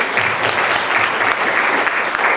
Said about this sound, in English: So let's give a round of applause up for Bonnie too.